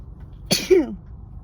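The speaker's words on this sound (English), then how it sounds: "I'm gonna sneeze, guys." A single sneeze bursts out close to the microphone, a sharp nasal onset followed by a short voiced trailing release, standing alone against quiet room background.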